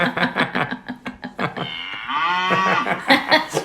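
A heavily pregnant cow, close to calving, lets out one long, drawn-out moo in the middle of the clip, with choppy voices or other sounds before and after it.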